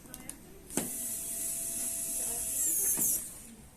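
An Aprilla ASD3520 electric screwdriver drives a thin-tipped bit into a screw head, giving a close, high whirring motor whine for a few seconds, with small clicks and knocks at the start and end.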